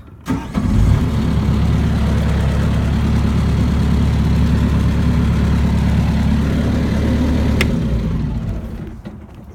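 A Bobcat T250 skid steer engine cranks and catches, then settles into a loud, steady diesel idle that runs unbroken before fading slightly at the end.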